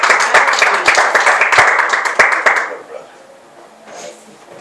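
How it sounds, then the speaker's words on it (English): A church congregation claps along at a Sunday morning service, a dense burst of many hands with sharp accents that fades out after about three seconds into quiet room tone. "Give the Lord a hand clap."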